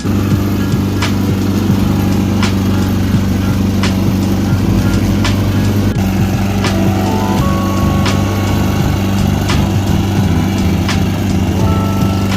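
A lawn mower runs continuously and loudly up close while lawns are being mowed, its engine drone steady throughout, with faint periodic clicks over the hum.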